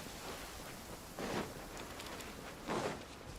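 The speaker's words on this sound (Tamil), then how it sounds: "மழை பெய்யுது." Rain falls steadily in Genshin Impact, a soft continuous hiss with two brief louder swells of splashing, no voices over it.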